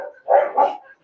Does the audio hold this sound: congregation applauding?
no